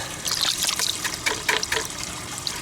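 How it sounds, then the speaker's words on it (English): Coarse pond filter foam being rinsed by hand in water, a steady trickling and splashing with small gushes throughout, close and fairly loud. "we're gonna rinse some of this out"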